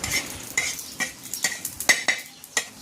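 Coriander seeds roasting in a hot pan just after peanuts were fried, with light sizzling and repeated scraping, stirring taps of a spatula against the metal in an irregular rhythm, close and clear with no talking.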